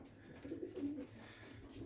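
Racing pigeons coo faintly in a loft, with a couple of soft, low throaty coos in the middle over a quiet background, with no talking.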